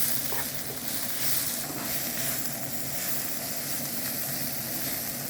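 Chicken and mushroom filling sizzling and being stirred in a hot pan, a steady close frying hiss with no talk over it.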